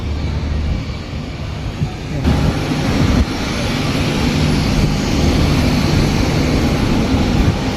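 A steady, loud roar of an airplane engine fills the air at an airport in Laos, a constant droning rumble with no break throughout.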